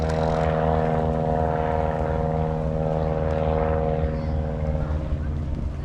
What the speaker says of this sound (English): A very loud airplane up there with a banner.